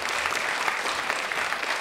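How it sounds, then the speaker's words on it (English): Dense audience applause for quiz contestants, a short continuous burst of many hands clapping at moderate level with no voices. "Give them a round of applause."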